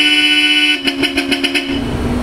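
Bosch Europa twin horns fitted to a 2024 Ford Ranger sound about six short, loud, closely spaced honks in a quick rhythmic burst after a steady tonal background hum.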